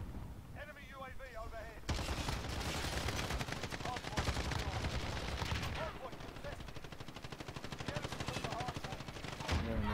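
Rapid automatic fire from a CR-56 AMAX rifle in Call of Duty: Modern Warfare, dense crackling bursts running almost continuously after a brief quieter start, close and loud with a voice speaking underneath.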